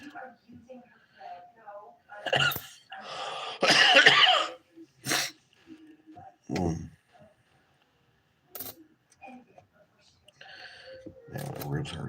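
A man coughs hard a few times in short, loud bursts during a live stream, with scattered quiet speech and breaths between the coughs.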